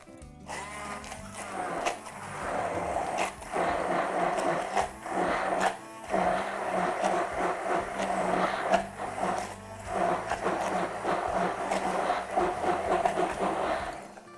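A blender mixes a lettuce-based sauce with greens such as kale and endives, a loud continuous whirring drone with shifting pitch and brief dips as it runs for the whole stretch, with no voices over it.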